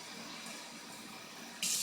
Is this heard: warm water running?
yes